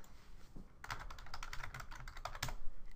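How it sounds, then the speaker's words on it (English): Rapid, light clicking of a computer keyboard as an answer is typed into a quiz box, a close, steady patter of keystrokes following a brief quiet start, no talking. "in a long answer, short answer, or fill-in-the-blanks question, you simply type your response into the box given"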